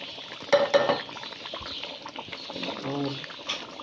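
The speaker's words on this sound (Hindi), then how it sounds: "तो साग अब इसमें डालते हैं।" Mustard greens (saag) tipped into a pan of chicken and stirred, giving a short burst of clattering and rustling with a steady sizzle and bubbling underneath, close and fairly loud.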